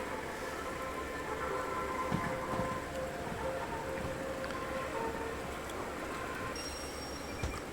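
A moving train in the railway simulator Derail Valley, played in VR, gives a continuous dense rumble with metallic squealing tones and a faint high whine, steady throughout with no talk.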